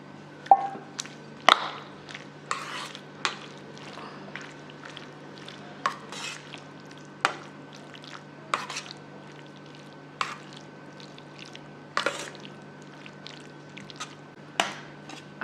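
Yogurt is spooned into a Marathi cucumber salad and stirred in, giving soft, wet squelches and spoon clicks at irregular intervals, close by and fairly quiet.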